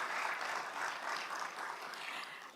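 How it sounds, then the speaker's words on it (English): An audience at an annual meeting applauds the council chairman, with steady, fairly distant clapping that holds evenly and then begins to fade at the end. "Let's give him another round of applause,"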